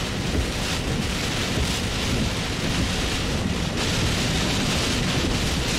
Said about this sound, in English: we're getting some better gusts here